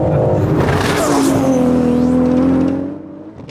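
A stock BMW M4 and a 1,000-horsepower Toyota Supra in a quarter-mile drag race roar loudly, engine tones sweeping and climbing under hard acceleration, then the noise fades as they pull away.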